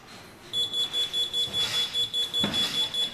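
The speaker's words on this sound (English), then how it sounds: "As you can hear, the alarm goes off" A phone alarm sounding in a smart house demo, a rapid repeating series of high electronic beeps pulsing evenly and loudly after a brief quiet start, with a short clunk near the end.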